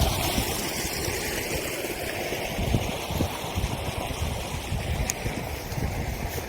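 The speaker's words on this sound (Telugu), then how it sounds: "బ్యాటరీ పంపుని ఆన్ చేసి బాగా స్లోగా పెట్టారు. దీనివల్ల ఏంటంటే వాటర్ బాగా స్లోగా వస్తున్నాయి." Water from a battery-powered pump, set to run slowly, flows into a vegetable field with a soft, continuous gurgling rush, even and unbroken throughout, with no voices.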